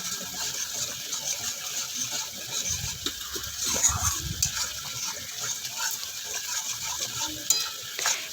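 Spice paste fries in oil for a cauliflower curry, with a steady sizzle under occasional stirring scrapes. The sound is close and moderately loud, and there is no talk.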